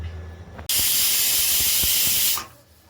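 A pressure cooker whistle lets out a loud, steady hiss of steam while cooking mutton curry on medium flame, bursting out suddenly and holding for nearly two seconds before cutting off, with faint kitchen sounds before and after.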